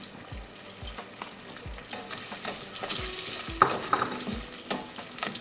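Peas and whole spices stir-fry in melted butter: cumin seeds, cardamom, cloves, cinnamon stick and dried red chili. A spoon scrapes and knocks against the pan in a steady rhythm over a soft, close sizzle.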